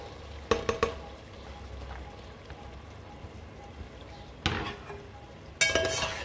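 Boiled white chickpeas fry with masala in a pan for chana rice. A spoon clatters and scrapes in bursts over a low, steady sizzle.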